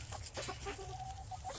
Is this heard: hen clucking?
yes